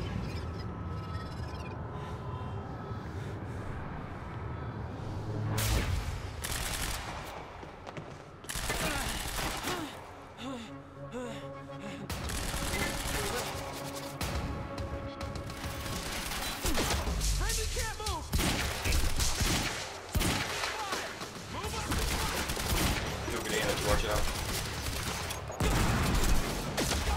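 Bursts of gunfire in the video game Quantum Break, rapid volleys and heavy impacts coming in clusters across a long stretch, mixed with crashes and players talking over the action.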